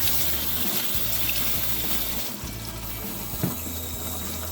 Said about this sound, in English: you want to make sure you're running cold water actually through it until it's all clear coming out.